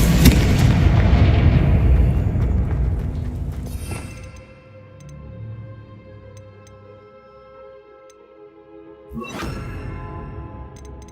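Confringo fire explosion spell in the Hogwarts Legacy video game: a loud burst of crackling blasts that fades into ringing, chiming decay, then a second sharp hit near the end.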